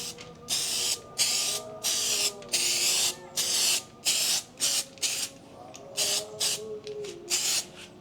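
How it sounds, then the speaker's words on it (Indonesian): Repeated bursts of aerosol spray paint hissing onto a car body panel, about a dozen short, loud blasts in an uneven rhythm with brief pauses between them, close by and with no voices. "Terus ya tinggal kita semprot aja biasa."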